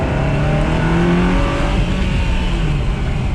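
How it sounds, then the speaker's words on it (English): A salvage Ferrari's engine revved hard on a high-RPM test drive, a loud, close, continuous roar climbing in pitch as the car accelerates. "We got to do one upper RPM run, and that starts right now."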